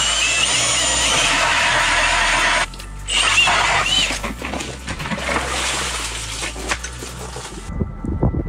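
An ice auger with a cage drill setup bores through the ice of frozen Fish Lake, Utah, a loud, steady, close grinding whir that surges, then tapers off at the end.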